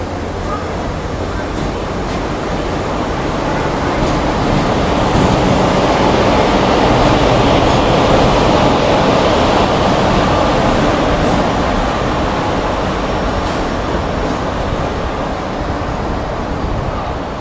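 Chennai Mail train 16102, running from Kollam to Egmore, arrives at platform 1 of Sengottai railway station in Tamil Nadu. A loud, steady rumble of rolling wheels and carriages fills the whole stretch without a break.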